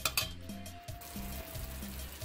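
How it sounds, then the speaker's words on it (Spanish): Red tomato and onion sautéing in melted butter for a pork filling, a steady soft sizzle with a brief utensil clink near the start and low background hum throughout, no talk. "Lo primero es que vamos a sofreír nuestro jitomate rojo y nuestra cebolla."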